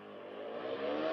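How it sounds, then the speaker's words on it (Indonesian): A motorcycle engine with a loose, detached exhaust revs continuously, a rising mid-pitched whir that grows slightly louder over about a second, heard alone with no talk. "Awas, ada motor nabok."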